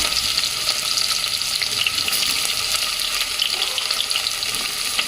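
Sliced onions frying in hot oil for mutton biryani give a steady, close, continuous sizzle and crackle that stays even throughout, with no voices.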